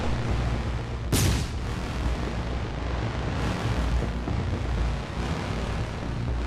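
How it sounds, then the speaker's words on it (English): Plasma turrets and laser beams firing in the Istrolid space strategy game, a dense continuous rumble of blasts with one sharp loud boom near the start, loud and without speech. "Plasma turrets and frickin' laser beam."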